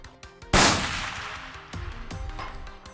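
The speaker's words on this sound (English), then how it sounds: "Let's shoot it one more time." A hunting rifle fires during a South Texas whitetail deer outing. One loud, close shot rings out and then decays into a lingering rumble, followed by fainter mechanical clicks and handling noises.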